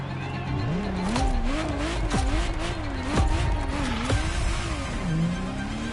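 A Ferrari Testarossa in a racing video game, its engine note rising and falling through gear changes with a steady drone, along with brief tire squeals and skids. The car stays close and loud throughout.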